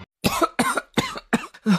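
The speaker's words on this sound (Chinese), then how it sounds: "他被呛得连连咳嗽" A man coughs after choking on bitter powder: five harsh, rapid coughs in a close burst, each sharp and separated by brief gaps.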